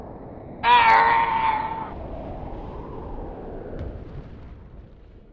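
Bowser's galaxy reactor exploding in the video game Super Mario Galaxy: a sudden loud blast with a bright, shrieking tonal burst lasting about a second, then a long, low rumble that slowly fades.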